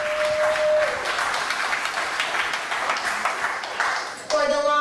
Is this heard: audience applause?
yes